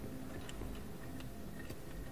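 Clocks ticking in the video game Control, a steady tick-tock with faint periodic clicks over a low ambient hum, no voices.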